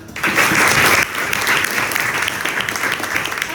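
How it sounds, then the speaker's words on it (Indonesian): A classroom of students applauds, steady dense clapping that is loud and close, starting abruptly and holding for several seconds without a break. "Beri aplaus, Nak."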